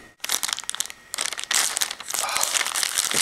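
Plastic or paper wrapping on a mailed package crinkles loudly and up close as it is handled and pulled open, in bursts of sharp rustling that turn nearly continuous.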